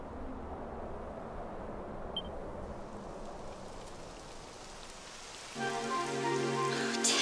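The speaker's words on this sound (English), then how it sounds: "It would have to go and start raining, wouldn't it?" Steady rain falling in the video game Dragon Quest XI, a continuous dense patter throughout, with a brief swell of game music or ambience joining near the end.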